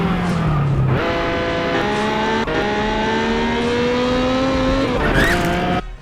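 An infamous car engine from the GTA 3 alpha build video game drones loudly and steadily throughout, with gear-like pitch steps as it revs higher, then cuts off abruptly at the end.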